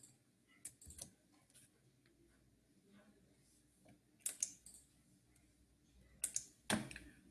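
Soft, irregular clicks of typing on a computer keyboard, quiet and close, with a few sharper key taps near the end and no talking.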